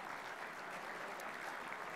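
Applause at a football awards night honouring the season's leading goal kickers, a continuous even patter of many hands, faint and distant, holding steady for the whole stretch.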